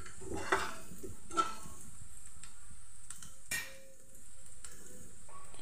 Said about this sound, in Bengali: প্রথমে আমি পেঁয়াজ কুচিটা একটু লাল করে ভেজে নেব।